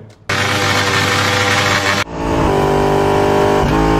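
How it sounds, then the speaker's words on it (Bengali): A loud motorcycle engine revs hard, cuts out briefly, then roars again and holds a steady, throaty drone. "উচ্চ সাউন্ডে বাইক চালাবা কোনো সমস্যা নাই"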